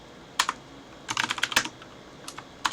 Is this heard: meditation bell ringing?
no